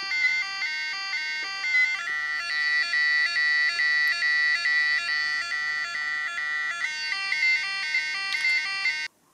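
A beeper circuit built around a 555 timer chip sounds a harsh, electronic tone that pulses on and off in a fast repeating pattern, loud and close, then cuts off abruptly near the end.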